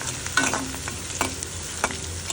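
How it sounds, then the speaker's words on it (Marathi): Garlic and curry leaves fry in hot oil in a pan, giving a steady close sizzle broken by several scraping stirs of a spoon against the metal, with no voices. "त्याचबरोबर लसूण पण टाकून घ्या. चांगल्या पद्धतीने सगळं तळत आहे."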